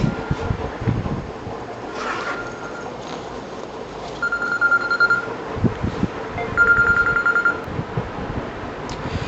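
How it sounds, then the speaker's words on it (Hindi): A phone rings faintly in the background, with two short bursts of an electronic ringtone heard over a steady low room hum and some rustling. "घर से आ रहा था मेरे फ़ोन"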